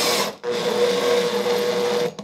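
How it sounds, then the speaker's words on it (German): Cordless drill-driver whirring as it drives screws into heavy-duty workbench casters, one short burst followed by a longer sustained spin of roughly two seconds, close and loud, no talking. "Und schraubt die Schrauben nicht zu fest an mit dem Akkuschrauber."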